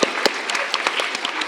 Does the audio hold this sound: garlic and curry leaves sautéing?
no